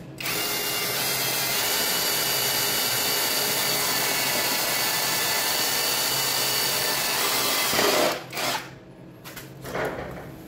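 A power drill with a bit bores holes, running loud and continuous for about eight seconds, then a few shorter bursts and clunks as it stops and restarts.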